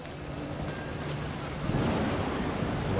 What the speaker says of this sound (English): The waves are kicking